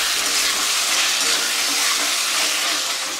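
Chicken chorchori with tomato sauce being stirred in a frying pan, a loud, dense, continuous sizzle close up with faint scraping under it and no pauses.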